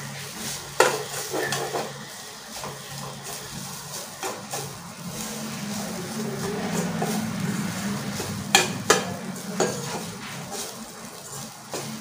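Grated coconut roasts in ghee in a pan for paruppu poli, a spatula stirring and clinking against the metal over a steady low sizzle, close by, with a few sharp scrapes.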